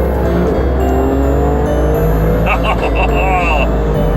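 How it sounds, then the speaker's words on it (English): Inside an Alfa Romeo Stelvio Quadrifoglio on a road trip, a loud, steady engine drone dominates the cabin as it drops down into second gear, with someone talking over it throughout. "let's just drop it down a couple of gears into second"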